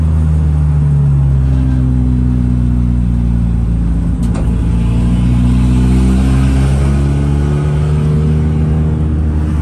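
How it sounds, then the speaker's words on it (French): Engine of a Mitsubishi Colt Ralliart with a stage 3 tune and no remap, warming up from the driver's seat on the road, heard as a steady loud low rumble with rising and falling drone while driving, with no talking. "Je peux même pas chauffer ma voiture tranquille."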